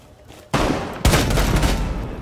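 Rainbow Six Siege gunfire on the Kanal map in a hostage match: two loud, close bursts of shots, the first starting about half a second in and a heavier one about a second in, followed by a dense, sustained rattle of fire.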